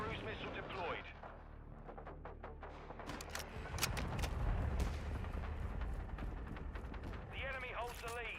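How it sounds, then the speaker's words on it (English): Heavy booming strike and explosions from a cruise missile hitting the ground in Modern Warfare 2 (2022) multiplayer, rumbling under gunfire with game voice callouts spoken over it. "Friendly cruise missile deployed."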